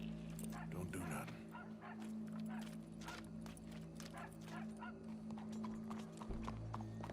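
Horse hooves clip-clop steadily through a Red Dead Redemption 2 game scene, a continuous loud rhythmic clatter over a low droning background, with brief voices and what may be a dog barking mixed in.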